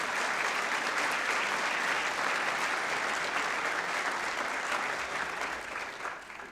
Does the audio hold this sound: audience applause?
yes